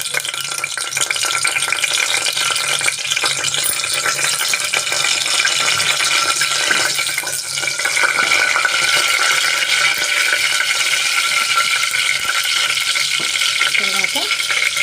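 Shahjeera drops into hot oil in a pressure cooker and sizzles steadily, a close, continuous frying crackle with occasional stirring scrapes and no talk.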